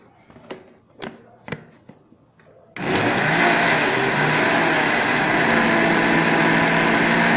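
A kitchen blender whirs loudly and steadily as it mixes rice cake batter with added sugar and coconut, following a few light knocks and clatters before the motor starts.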